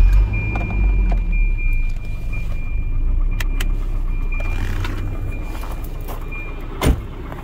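A US-spec Volvo 740 Turbo with the intercooled B230FT engine cranks and settles into a low, steady idle, with a brief sharp clack near the end and no voices.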